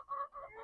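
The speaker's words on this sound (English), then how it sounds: "chickens and ducks doing their thing" Chickens and ducks in a backyard homestead garden give a short, close honking call that rises and wavers for under a second, with no voices.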